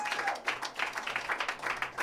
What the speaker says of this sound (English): We get one more round of applause for this incredible group of musicians.